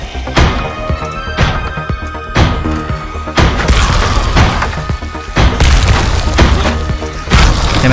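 Explosions in the zombie video game Zombie Night Terror go off one after another, a series of loud booming blasts and crashes rolling on and overlapping.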